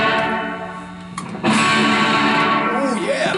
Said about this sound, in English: I'm going to turn on the pedal reverb, and listen to what it sounds like before distortion